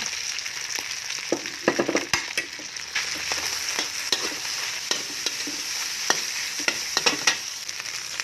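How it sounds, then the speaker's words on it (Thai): Rice is stir-fried in a pan for tamarind chili paste fried rice, with a steady sizzle broken by frequent quick spatula scrapes and taps against the pan. No one speaks. "ใส่ข้าวตามลงไปเลยค่ะ"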